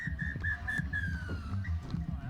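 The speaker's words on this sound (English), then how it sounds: "And the ref blows the final whistle." A referee's whistle at a men's open rugby sevens match sounds a single long, loud blast over crowd and field noise, then sounds briefly again, with voices murmuring underneath.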